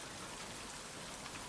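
Steady, even rain falls at night over rice terraces, a dense continuous hiss of drops with no pauses, no thunder and no voices.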